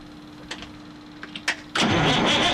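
A CAT 3406B diesel engine in a Kenworth cabover truck, idle for 25 years and getting no fuel from the injection pump, cranks over loudly after a few faint clicks and a low hum.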